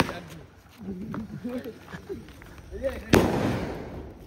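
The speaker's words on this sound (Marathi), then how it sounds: "मी मोठं बॉम्ब पेटवताय" A single loud Diwali firecracker bang bursts near the end, preceded by people talking and shouting in Marathi over background crackle.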